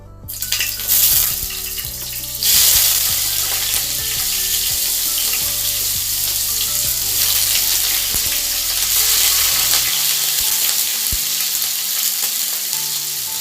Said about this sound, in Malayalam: സവാള ഇട്ടൊന്ന് ഇളക്കി കൊടുക്കുക.